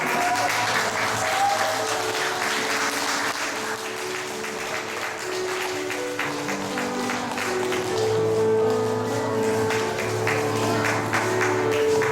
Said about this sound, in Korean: 여러분 뜨겁게 박수로 환영해 주시기 바랍니다